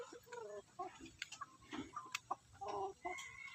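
A native Bisaya chicken clucks repeatedly nearby in short irregular bursts, with faint background noises and a hint of voices.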